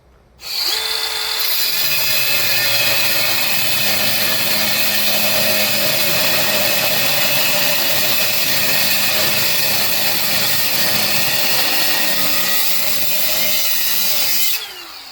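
A power tool cuts through the axle of a vintage 1964 Little Champ camper trailer, a loud continuous high-pitched grinding whine that holds steady for about fourteen seconds before stopping.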